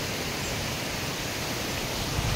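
A waterfall pours down from above on a trail near Bhimashankar, heard as a dense, even, continuous roar that fills the whole stretch without any voices.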